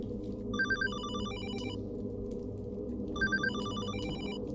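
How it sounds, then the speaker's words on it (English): A telephone rings in the Hollowbody video game with two distinct bursts of bright electronic trilling, separated by a pause, over a low ambient drone. "That's the phone."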